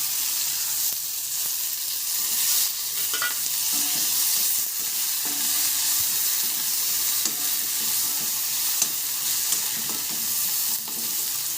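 Tomatoes go into onions frying golden brown in a pan and are stirred through, giving a steady close sizzle with repeated scraping stirs and spoon clinks throughout, no talking.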